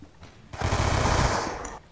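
Automatic gunfire in the video game Black Ops 2, a loud, dense burst lasting just over a second, close and unbroken before cutting off.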